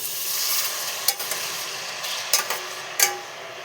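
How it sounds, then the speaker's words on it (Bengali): Water poured over vegetables frying in a pan with salt and oil brings a close, bright sizzle with a few sharp clinks of a utensil striking the pan and a hiss that swells and settles. "এর মধ্যে এখন জলটা দিয়ে দেবো।"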